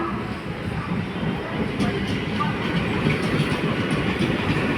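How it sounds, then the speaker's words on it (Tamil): An Arakkonam–Chennai Central commuter train rumbles steadily past nearby at Sevvapettai, wheels clacking on the rails in a continuous loud roar with faint metallic clicks. "இந்த ட்ரெயின் அரக்கோணம் டு சென்ட்ரல் செல்கின்ற ட்ரெயின்."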